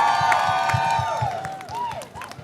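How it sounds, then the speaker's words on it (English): A crowd claps and cheers, with whoops and shouts rising over steady applause that fades slightly toward the end. "Can we have a round of applause"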